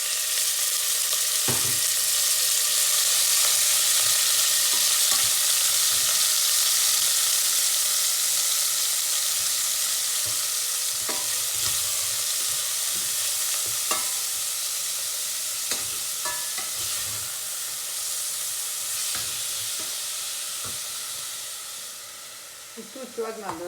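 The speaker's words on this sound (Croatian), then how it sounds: "I sad dodajemo meso. Pošto nam se ulje zagrijalo," Meat sizzling in heated oil in a pan for Bosnian trahana soup, a steady broadband frying hiss throughout with occasional scraping stirs and clicks, fading slightly toward the end.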